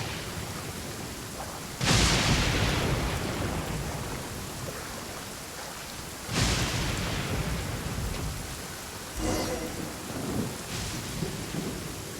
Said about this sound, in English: Without lightning to give warning, the sound of thunder is quite startling.